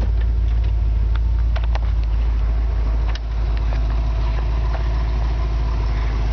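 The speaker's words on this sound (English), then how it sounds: "But you hear the exhaust." A 1977 Corvette engine idles with its exhaust giving a steady, close, low rumble that runs evenly through the whole stretch, with no speech over it.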